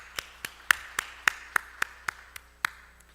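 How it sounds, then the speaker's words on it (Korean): A church congregation gives applause during a Sunday afternoon service, though only about ten sharp, evenly spaced claps stand out clearly above a quiet background, in a slow steady rhythm. "오늘 예배를 받으신 삼위 하나님께 영광의 박수를 돌려드립니다."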